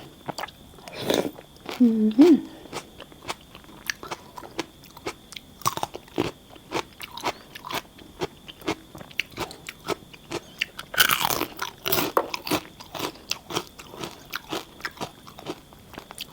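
Crunchy spicy giant squid tentacle salad being chewed, with repeated crisp bites and crunches close to the mic, some louder bursts, under intermittent talk.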